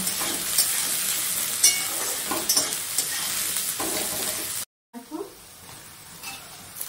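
Onion and tomato frying in a pan for Bengali mutton kosha, stirred steadily with a continuous close sizzle and scraping strokes, a brief dropout near the end, no talk over it.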